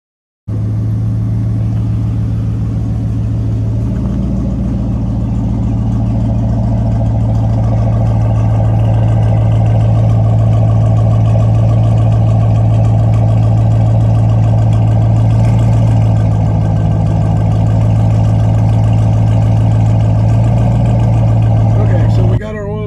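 A 2010 Ford Mustang GT sits running as it warms up after an oil change, a loud, steady low engine drone that holds close and even with no talking over it.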